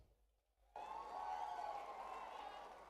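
Applause from the audience at a Telugu stage event, part of an anniversary celebration featuring a lyricist's songs. It bursts in suddenly after a brief quiet moment and then holds as a steady, dense wash of clapping.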